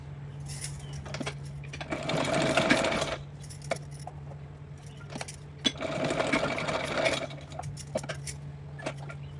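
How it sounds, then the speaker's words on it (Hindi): A sewing machine stitches a lace dress for a Laddu Gopal idol in two close bursts of rapid mechanical whirring, with a quieter hum and small clicks and taps between them. Nobody talks. "यहाँ से इस पर रख करके मैं सिलाई लगाऊंगी"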